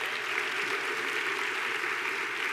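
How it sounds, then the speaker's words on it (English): Applause for doctoral graduates at a university autumn graduation ceremony, a steady, fairly faint wash of clapping from a large audience that holds even for a couple of seconds without talk. "Please give them a massive round of applause."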